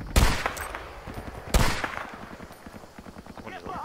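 Gunfire in Battlefield Vietnam: two loud sharp shots around the start and middle, with scattered smaller reports and rattling between them, while a voice talks over the action.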